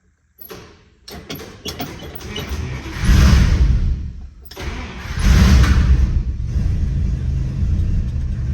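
A 322 Nailhead V8 cranks and fires up right after a starter replacement, clicking and churning briefly before catching into a loud, deep rumbling idle that swells twice and settles, close by with no talk.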